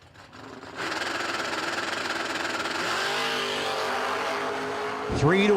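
A 1994 Camaro and a 1972 Nova at a no-delay drag race launch with a sudden loud roar, engines holding a steady high drone, then a sharp Doppler sweep as a car passes close.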